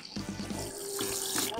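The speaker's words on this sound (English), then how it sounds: "let's go ahead and take a look at how the flush function of the toilet works" A Yitahome portable camping toilet flushes, a close, short rush of running water swirling around the bowl, preceded by a few soft clicks from the valve.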